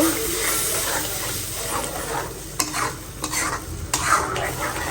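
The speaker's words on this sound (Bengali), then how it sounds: "হলুদ দিয়ে তেল দিয়ে এগুলো ভাইজা রাখবো" Steady loud sizzling of shrimp frying in hot oil with turmeric, with scraping stir sounds and a few sharper crackles, no talking.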